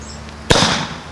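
A single sharp, loud bang from a Conestoga Big Bang carbide cannon firing, followed by a brief ringing decay, heard alone.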